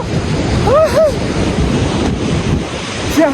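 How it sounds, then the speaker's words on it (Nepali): Cold wind on a mountain ridge in Solukhumbu, Nepal, roars and buffets the microphone in a loud, constant rumble, with a couple of brief high wavering tones cutting through. "चिसो न चिसो हावा आउने रहेछ"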